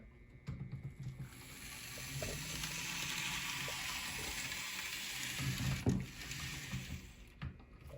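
A D&H SD45 model train locomotive runs along a test track and over a switch at low throttle, giving a steady, faint motor whir with a few light clicks and rattles from the rails.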